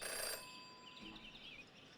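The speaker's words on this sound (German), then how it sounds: "never to ignore a ringing phone" A telephone rings in the video game Jenny LeClue: one short, bright electronic ring burst opens the moment, then fades into quiet background tones.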